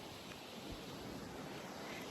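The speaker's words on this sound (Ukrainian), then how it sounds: "такий сильний вітер сьогодні" Strong wind roars steadily across the microphone at a lake in the Netherlands as a dense, unbroken rushing noise with no voices.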